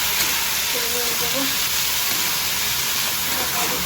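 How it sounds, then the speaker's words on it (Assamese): A vegetable bhaji sizzles in a pan with a steady, even hiss and crackle that holds for the whole stretch, joined by faint voice-like tones in the background. "ভাজিটো বহাই দিছোঁ"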